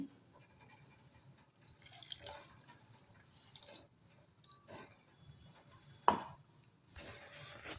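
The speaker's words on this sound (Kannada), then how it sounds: "ಇವಾಗ ನಾನು ಇದಕ್ಕೆ ಸ್ವಲ್ಪ ನೀರು ಹಾಕ್ತಾಯಿದ್ದೀನಿ." Water poured into a coconut, garlic and ginger masala paste with pepper, cinnamon and cloves for a potato-brinjal sambar: quiet, intermittent splashes and drips with one sharper splash near the end, no talking.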